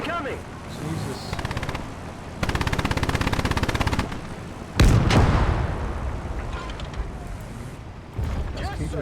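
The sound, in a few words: artillery fire and gunfire in a war film battle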